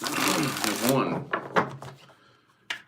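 Tarot cards riffle noisily close by for about a second, followed by a few quieter taps and shuffles, with a sharp snap near the end.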